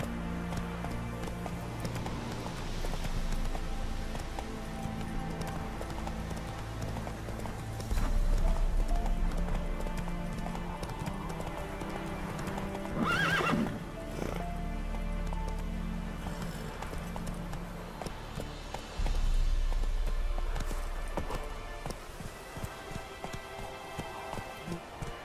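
Hoofbeats of Roach, the horse in The Witcher 3, galloping in a steady clip-clop rhythm under game music and ambient noise, with brief louder bursts along the way.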